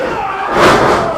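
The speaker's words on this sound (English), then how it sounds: "Not many men in professional wrestling have been able to take JD Drake off of his feet as easily as Bojack just did there" A professional wrestling match where one wrestler is knocked off his feet by a stiff right arm, a thud rising out of steady crowd noise that swells into a loud cheer.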